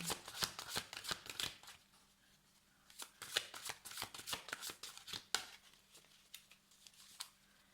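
Tarot cards are shuffled in quick, close bursts of riffling and slapping, with short pauses between rounds and no talking.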